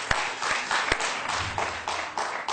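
A studio audience at a Georgian comedy contest show claps in a loose, uneven patter of hand claps with a few sharp individual claps standing out over a brief stretch.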